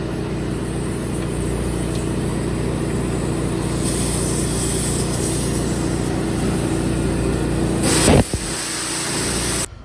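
An old piece of equipment's engine running during spring cleaning and equipment shuffling, a steady, close mid-pitched drone with a faint rev and a brief clunk near the end before it cuts.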